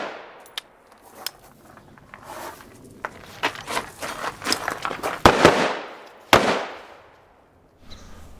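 Sharp gunshots fired during SWAT school training with a rifle wearing a Sightmark M-Spec Ultrashot red dot sight crack out irregularly, some single and some in quick bursts, loud and close, with shuffling movement between them.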